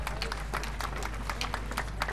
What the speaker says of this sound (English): A big round of applause for our ensemble for making us sink in the ocean of music.